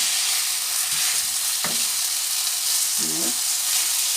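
Chicken pieces and ground spices for a Thai red curry frying in a pan, a continuous loud sizzle with a couple of brief clinks of stirring.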